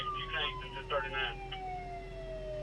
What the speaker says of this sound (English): Not gonna hear you past the siren.